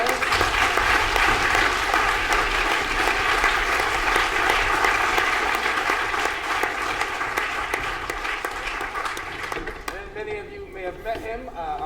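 A concert audience applauds loudly and continuously at a senior youth orchestra concert, a dense wash of clapping that thins out near the end as it fades.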